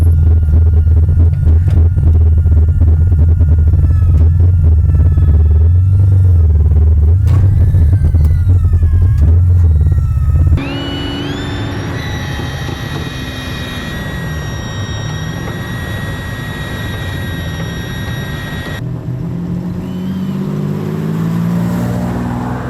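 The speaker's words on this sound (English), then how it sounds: "We're gonna hit the road for the first time ever in my V12 Fox Body Mustang" A V12-swapped Fox Body Mustang on its first road drive, engine loud and close with a deep throbbing drone, shifting to a steadier, higher cruising tone partway through as it rolls along the street.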